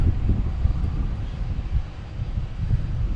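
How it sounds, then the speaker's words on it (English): A JetBlue Airbus A320 jet airliner at Boston Logan Airport gives a steady, fairly distant engine rumble that holds at an even level throughout, with no talking. "I have a JetBlue and A320 heading to JFK, flight 517"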